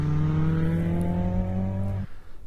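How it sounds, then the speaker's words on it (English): A stock CA18DET-engined Nissan S13 Silvia cruises home from a car meet, its engine droning with a steady, slowly rising note heard from inside the car, then cutting off abruptly near the end. "So these clips were recorded when the engine was still stock in my old S13 Silvia, driving with my mate."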